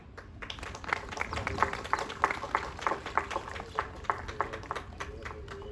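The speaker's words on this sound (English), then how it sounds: "Let us welcome all with huge round of applause." Applause welcomes guests to the stage at an Independence Day school celebration, an audience clapping steadily for several seconds with a rhythmic patter of hands, moderately distant and continuous.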